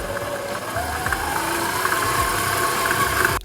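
Stand mixer kneading white bread dough at second speed, a steady mechanical whir with a low rhythmic rumble and hum running continuously and fairly loud, then stopping abruptly at the end.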